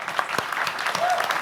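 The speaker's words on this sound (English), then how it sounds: "So I think they deserve a round of applause." An audience at the E3 2015 presentation applauds in a short, dense burst of clapping with a bit of cheering mixed in.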